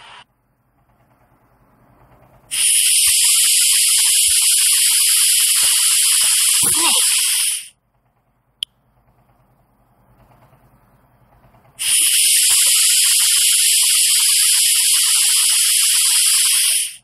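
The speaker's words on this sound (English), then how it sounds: "frog" Two long, loud frog croaking bursts, each a steady buzzing drone lasting about five seconds, separated by a quiet gap and a single faint click; no voices.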